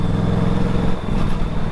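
Aprilia RS 457 motorcycle fitted with an Ixil SX1 exhaust, cruising in sixth gear, giving a steady low engine drone with a constant hum and wind noise, moderately loud and unbroken.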